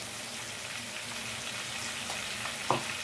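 Ginger-garlic paste sizzles in hot oil with fried onions for a fish curry, a steady close frying hiss with a sharp clink near the end.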